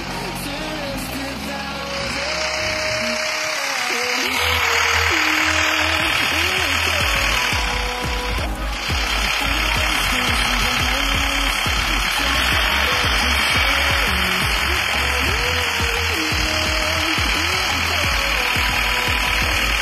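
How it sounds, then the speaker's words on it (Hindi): A low, steady tractor engine drone from the video game Indian Bikes Driving 3D hums continuously under a voice talking, with a constant mechanical whine layered on top. "मैं आपको आने वाले ट्रैक्टर का पूरा का पूरा वॉइस भी सुना देता हूँ"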